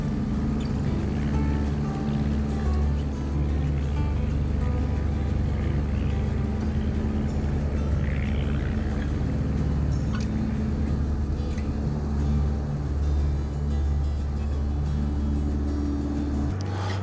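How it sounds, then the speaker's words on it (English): Small aircraft engine holding a steady, loud drone as the plane accelerates low over the runway in ground effect and climbs away after takeoff, a continuous close rumble throughout. "Once we're in the air, we keep her in the ground effect, let it accelerate, and pretty soon we're at good climb speed"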